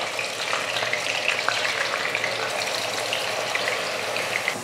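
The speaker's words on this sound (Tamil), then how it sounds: "வெங்காயத்தை வதக்கிக்கலாம்." Onion paste frying in hot oil with curry leaves, a steady dense sizzle that holds evenly throughout, close and fairly loud with no voices.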